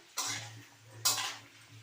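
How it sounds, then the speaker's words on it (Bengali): Vegetables and shrimp fry in a pan and a spoon stirs them in two brief scraping strokes over a low background hum. The sound is close but fairly soft, and no one speaks. "চলো ভেজে নিই এবার সব কটা জিনিসকে একসাথে।"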